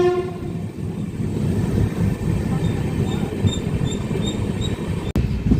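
An Amrit Bharat Express train rolls into Aduthurai station with a steady rumble of wheels, faint high squeals and a horn note, while voices murmur in the background.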